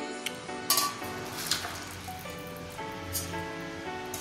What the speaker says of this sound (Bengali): গরম জল দিচ্ছি 6 বাটি